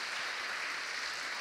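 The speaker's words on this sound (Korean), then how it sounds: "우리 감사의 마음으로 한번 박수 한번 할까요?" Church congregation applauding the Gloria praise team at Yonsei Central Church: a steady, dense wash of clapping that fills the whole short stretch at even volume, with no voices on top.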